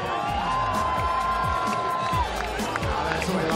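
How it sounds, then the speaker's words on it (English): Crowd cheering and whooping at a STIHL Timbersports Australian Trophy woodchopping event, a steady roar of many voices with scattered shouts and some clapping, loud and continuous throughout. "give us the biggest cheer of your life right now"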